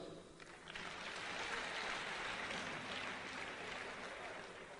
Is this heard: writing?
no